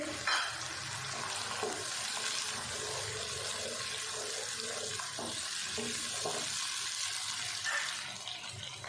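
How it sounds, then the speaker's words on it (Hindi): Two ground tomatoes go into a frying masala gravy for stuffed bitter gourd, giving a steady, moderately quiet sizzle with faint stirring that continues throughout. "ये 2 टमाटर हैं जिनको मैंने पीस लिया है, ये भी हम डाल देंगे"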